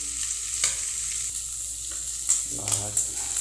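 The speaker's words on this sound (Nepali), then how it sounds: "प्याज हालेर भुट्नु पर्यो" Food sizzling and being stirred in a hot pan, with scraping clinks of a utensil over a steady fry hiss.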